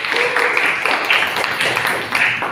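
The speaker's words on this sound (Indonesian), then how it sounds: "tepuk tangan untuk kita semua." A classroom of students breaks into applause, a dense patter of many hands clapping together, lively and sustained, with no voices over it.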